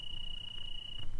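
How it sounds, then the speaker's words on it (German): Crickets chirping in a quiet mountain region in Greece, a steady high continuous trill held for about a second over low background rumble, moderately near. "man hört ein paar Grillen zirpen"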